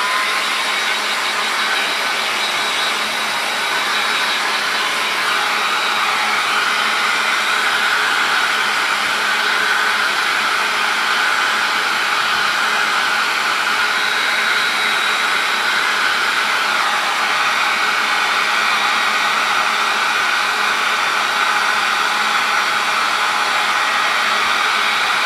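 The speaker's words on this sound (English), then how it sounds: "you may need to take a couple of minutes with a hairdryer." A hair dryer runs steadily and loudly throughout, drying gel medium on a canvas for an image transfer, a continuous even whir with no talk.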